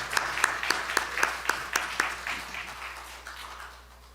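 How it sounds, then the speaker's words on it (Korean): A church congregation claps to welcome a missionary at a Sunday worship service, several sharp hand claps in a quick even rhythm that soften and fade toward the end, over a low steady hum. "할렐루야와 박수로 환영해 주시기 바랍니다"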